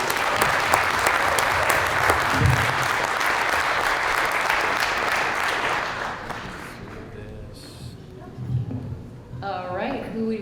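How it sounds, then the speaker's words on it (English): Audience applause after a pitch competition presentation, a full round of clapping that fades over about six seconds, followed by scattered sounds and a person starting to talk. "Let's give him one more round of applause."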